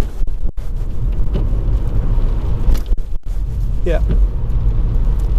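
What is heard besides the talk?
VW Up! GTI car driving in third gear at 20 mph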